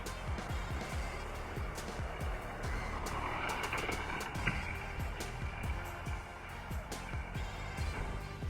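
A Hot Wheels die-cast Porsche rolls down a plastic race track, giving a continuous rumbling roll with quick ticking clicks over track joints, close and steady throughout.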